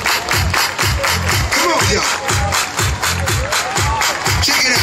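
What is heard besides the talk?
crowd clapping hands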